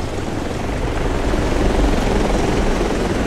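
Helicopter flying in the Delta Force video game, a loud, steady, continuous rotor and engine roar that fills the whole stretch without letting up.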